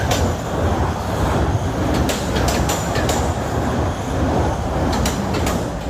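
A Class 444 electric multiple unit on a Weymouth to London Waterloo service rolls past in southern England, a loud, steady rumble of wheels and motors holding for several seconds with faint rail clicks.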